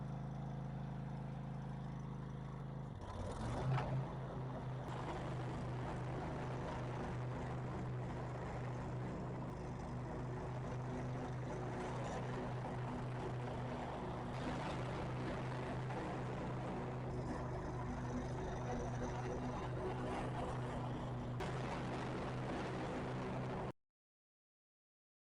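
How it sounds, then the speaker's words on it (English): A riding lawn mower with freshly sharpened blades mows thick, uneven grass, its engine droning steadily and close after a short startup surge, then cutting off abruptly near the end. "we get on and see how well it's gonna mow"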